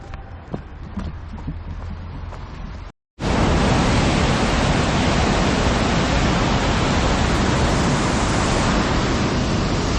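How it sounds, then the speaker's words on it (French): The Cascade de Caux waterfall in the Ardennes roars as a loud, constant broadband rush after a brief quieter stretch of footsteps on a trail, completely dominating and close by. "Cascade de Caux les gars. Magnifique."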